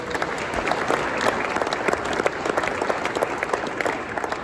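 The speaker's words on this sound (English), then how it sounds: "Can we give them a round of applause real quick?" A crowd applauding steadily, a dense patter of clapping at moderate volume throughout.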